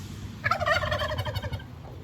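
A turkey in a backyard flock gobbles once in a rapid, warbling burst. It sounds moderately close over low outdoor background noise.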